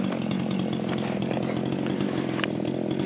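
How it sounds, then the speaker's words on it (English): A Husqvarna chainsaw, a 385XP or 55 from a junk pile being tested and tuned, runs steadily close by with a loud, buzzing two-stroke drone for the whole stretch. "Gonna run some of these saws, kind of a test and tune."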